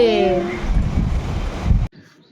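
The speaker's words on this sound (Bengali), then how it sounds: "হাওয়া দিচ্ছে বৃষ্টি আসবে জোরে" Strong wind roars and buffets the microphone in a loud, gusty rush that cuts off abruptly near the end, leaving quiet.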